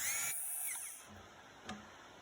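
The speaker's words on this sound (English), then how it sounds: "I start my night latch notches with a sanding disc here on a Dremel tool." A Dremel rotary tool with a sanding disc cuts notches into a night latch on a Wolf Creek Eliminator trap, a high whine that runs briefly up close, then winds down and fades, followed by a faint tap.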